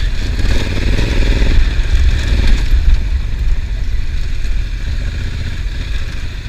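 A Honda Africa Twin adventure motorcycle ridden on Mount Hood, its engine droning loud and close with rattling, scraping clatter over rough ground, easing slightly toward the end, no voices.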